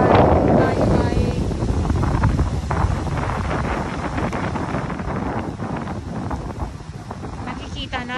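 Strong wind gusting through coconut palms along Manila Bay, a steady broadband rush with heavy buffeting on the microphone, loud and continuous throughout.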